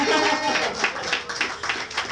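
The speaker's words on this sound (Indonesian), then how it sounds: "kita beri tepuk tangan yang meriah untuk Nanung" Audience applause for comedian Nanung at an Indonesian open mic stand-up comedy night, a dense, steady wash of many hands clapping for about two seconds.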